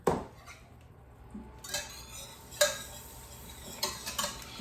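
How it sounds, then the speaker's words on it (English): Ingredients for a vegetarian root vegetable casserole being whisked together in a wide pan: quiet, sparse metallic clinks and taps of the whisk against the pan, a few sharper knocks spread across the clip over a low background. "And then I'm going to start whisking it together."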